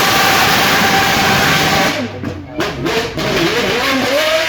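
A V12 supercar of just under 800 horsepower, revving to 9,000 rpm, roars past at close range at the Goodwood Festival of Speed. The loud engine note swells, dips briefly mid-pass, then climbs again.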